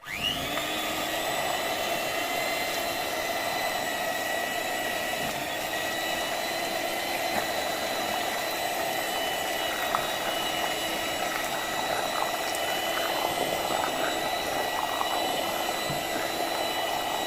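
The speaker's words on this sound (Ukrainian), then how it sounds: "І все міксером збиваю" An electric mixer whips boiled potatoes with butter, starting abruptly into a steady, loud motor whine with a constant pitch that holds throughout and is occasionally roughened by the beaters working the mash.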